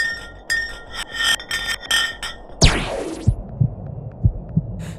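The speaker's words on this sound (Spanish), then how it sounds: "Los tonos cambiaban a lo largo del rápido descenso del bloque de hielo, desde un tono alto hasta un sonido bajo, parecido a los latidos del corazón." Ice block dropped down a deep borehole drilled in ice, ringing glassy pings first, then a sharp descending whistle sweeping from high to low, followed by dull heartbeat-like thuds spaced apart, alone.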